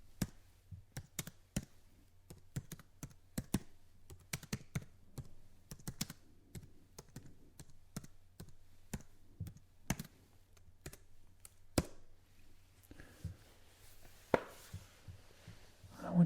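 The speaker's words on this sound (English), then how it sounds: "I will now type" Fingers type on a computer keyboard, up close in a quiet room, with irregular crisp key clicks in bursts and short pauses, and faint soft rustling near the end.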